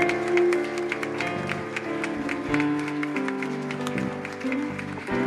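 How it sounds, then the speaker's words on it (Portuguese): A church congregation clapping for the Lord during a worship service: steady rhythmic handclaps ring out over sustained music, moderately loud and continuous throughout. "Dê uma grande salva de palmas ao Senhor"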